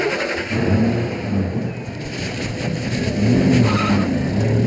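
A taxi speeding off in a car chase, with a loud, close engine roar, skidding and squealing tires across the whole stretch, rising and falling as the car accelerates.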